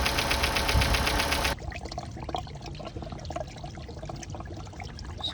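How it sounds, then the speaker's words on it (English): Water flushing through the cooling system and heater hose of a Chevy Cruze, first as a dense, loud rush that cuts off abruptly, then a quieter, irregular gurgling and trickling flow close by. "So here's my method for flushing the cooling system."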